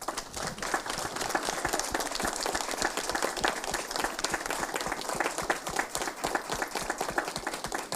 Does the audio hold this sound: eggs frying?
no